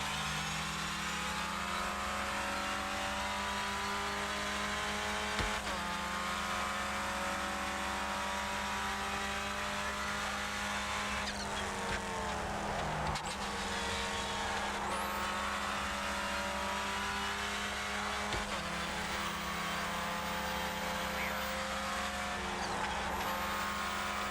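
Clio Cup race car engine in iRacing, a steady droning roar that rises and falls through gear changes and cornering, with faint tire squeal, continuous throughout.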